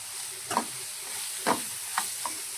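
Bitter gourd frying with salt and chili in a pan, a soft continuous sizzle with four separate scraping strokes of a spatula, close and fairly quiet.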